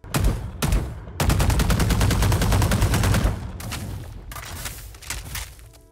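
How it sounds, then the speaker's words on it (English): Rapid automatic gunfire from a Primordium Phantom or Vandal rifle skin in VALORANT, loud close bursts of rhythmic shots, one long sustained spray in the middle and shorter bursts before and after. "the rest of the sounds in general, whether it's the shooting, the reloading, or even the inspecting, overall I just love how this bundle sounds"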